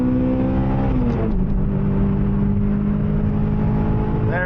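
A Toyota hot hatch accelerates up a highway on-ramp, the engine wailing upward, dropping briefly at a gear change, then climbing again as the valve timing comes in; loud and close with no voices.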